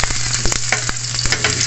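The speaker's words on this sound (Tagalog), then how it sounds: "sibuyas, bawang, luya. Ayan guys, lagay na muna natin to. Gisa muna natin." Onion, garlic and ginger hit a thin cooking pot and sizzle loudly, with rapid scraping stir strokes clattering over the hiss in a short close burst; no talking.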